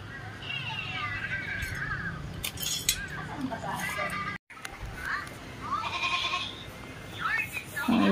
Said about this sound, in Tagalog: Gutom na yung kambing. Kanina pa umiiyak.